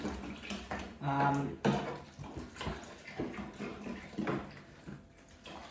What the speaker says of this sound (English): I've actually got a garden hose, which I've got in here, and I'm now going to fill it up to that 25 litre mark.